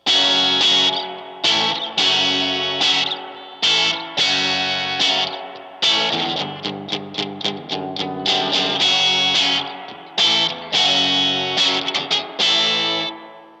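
An overdriven Squier Paranormal Esquire Deluxe electric guitar through a loud amp, played alone in chords with strummed hits and short rhythmic stabs, each ringing out with distorted sustain.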